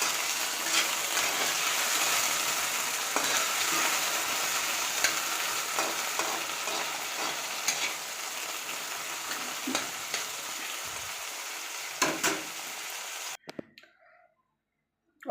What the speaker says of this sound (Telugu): ఇది సిమ్లో పెట్టి ఫ్రై చేసుకోవాలండి